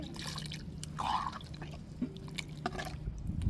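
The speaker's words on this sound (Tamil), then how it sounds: "இப்போ தேவையான அளவு தண்ணி சேர்த்துக்கிடுவோம்" Water splashes and trickles into a pot of dried rock-fish curry, a short gurgling pour near the start amid low background kitchen noise.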